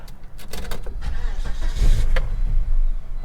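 A cheap car won at a Copart salvage auction cranks with a few sharp clicks and whirs, then catches and rumbles for a moment before dying. Faint background voices and rustling are also heard.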